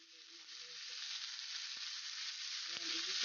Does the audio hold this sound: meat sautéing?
yes